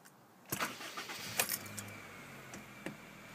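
A 2012 Honda Fit Sport with a manual transmission and about 3,854 miles cranks and starts from cold after a jingle of keys, then settles into a quiet idle heard from inside the car.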